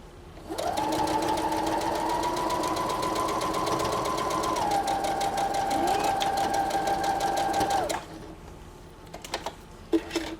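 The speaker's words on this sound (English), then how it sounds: "I'm going to come to meet this line, and then I'm going to do a back stitch" A sewing machine runs a back stitch on a custom burp cloth, its steady motor whir holding for several seconds, shifting pitch midway, then stopping before a few light clicks.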